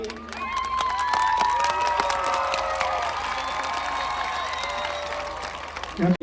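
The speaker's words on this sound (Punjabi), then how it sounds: "ਤਾਲੀਆਂ ਤੇ ਤੁਹਾਡਾ ਜੋਸ਼ ਜਿਹੜਾ ਬੜਾ ਮੈਨੂੰ ਘੱਟ ਲੱਗਾ ਹੈ" A village crowd claps and cheers at a welcome event, steady dense applause with high shouts and whoops running throughout, loud and close, ending with a sharp burst.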